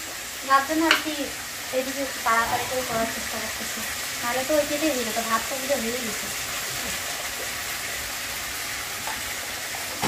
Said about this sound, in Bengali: নন্দিনী সুন্দর করে মশলাটাকে ভাজে নিচ্ছে